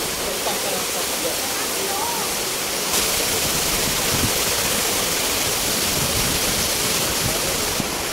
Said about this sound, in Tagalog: Ayan, may pa-falls. Fountain pala.